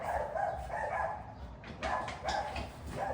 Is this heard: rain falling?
no